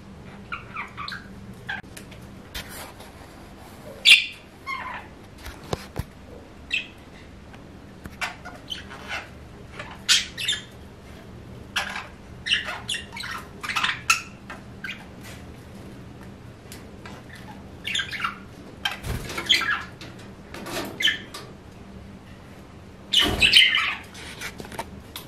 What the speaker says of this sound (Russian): Хочу показать, как птички играют с травой.